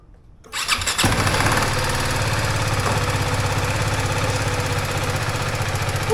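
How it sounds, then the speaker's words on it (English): A BMW G310GS motorcycle engine cranks and catches, then settles into a steady, loud, close idle with an even rhythmic pulse, with no talking. "Start the bike."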